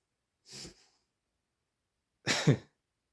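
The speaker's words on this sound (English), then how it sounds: "my elderly dog just sneezed explosively across the room." Two short explosive sneezes from an elderly dog, close by, separated by a pause of over a second; the second is louder and fuller.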